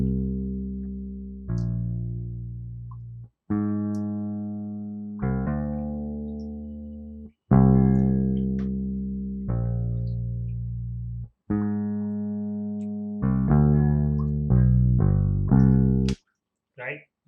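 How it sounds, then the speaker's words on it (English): Isolated bass guitar line from a music arrangement, a series of clear, sustained low plucked notes in a steady rhythm, each decaying before the next, played alone. "Now let's just listen simply to the bass guitar."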